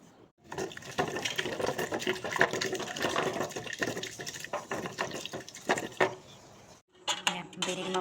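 Food is mashed and stirred in a pot with a metal utensil, giving repeated clanks, scrapes and wet sloshing. The bursts are irregular and close, with a short pause before the clattering starts again.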